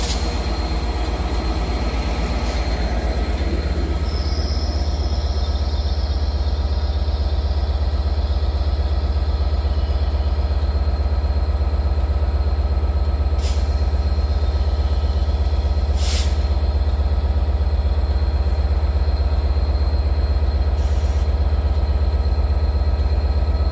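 A Class 197 Transport for Wales diesel unit, 197022, works a service toward Manchester Piccadilly at Crewe on the West Coast Main Line. It gives a loud, steady low engine drone that runs throughout, with a brief hiss of air near the start.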